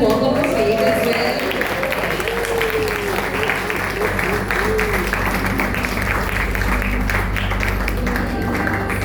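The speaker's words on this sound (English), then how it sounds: "We can continue the applause" Audience clapping at a school event as young playgroup children walk off the stage, sustained applause with a few voices mixed into the crowd noise throughout.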